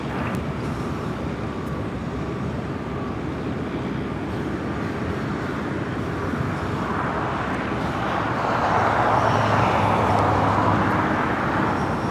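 An Emirates airliner moves at Los Angeles airport, a loud continuous jet engine roar, broadband and droning, swelling somewhat louder toward the end with no talk over it.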